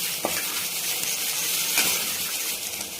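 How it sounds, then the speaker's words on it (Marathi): Potato pieces tossed and stirred in a hot frying pan with turmeric, a steady close sizzle with a couple of light spoon scrapes and clinks against the pan. "त्या बटाट्याच्या फोडी टाकायच्या आहे मिक्स करून घेते छान"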